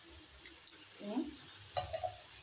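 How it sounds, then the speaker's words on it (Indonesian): Chicken liver and gizzard stir-fry with oyster sauce being stirred in a pan, with soft sizzling and a few short scraping strokes and clinks close by, and no talk. "selanjutnya kita aduk-aduk ini ya pemirsa"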